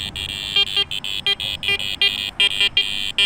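A Garrett Ace Apex metal detector sounds its iron tone while swept over nails: a rapid series of short, buzzy electronic beeps in an uneven rhythm over a constant background drone, close and loud, with no talking.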